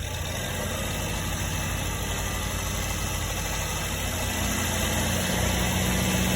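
A 2012 GMC Terrain 2.4 engine with a faulty rail pressure sensor and reduced engine power runs with a steady close hum, its drone rising slightly near the end as the gas is pressed.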